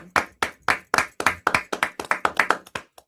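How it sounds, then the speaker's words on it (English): A dozen or so crisp hand claps sound up close in a quick, slightly uneven rhythm, bunching together near the end before stopping, with no talking. "Please clap."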